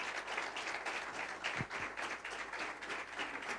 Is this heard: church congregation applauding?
yes